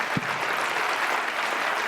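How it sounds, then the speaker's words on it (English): Steady, dense applause from an audience at the end of a talk on Indigenous knowledge, a continuous wash of many hands clapping at even loudness throughout. "let's give a round of applause"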